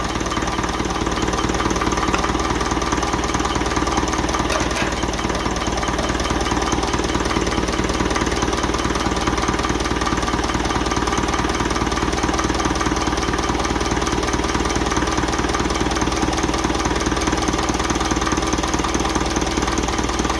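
A 1955 Ferguson TEF 20 diesel tractor engine runs steadily after starting, a loud, close, rapid knocking diesel clatter that continues evenly throughout with no talk.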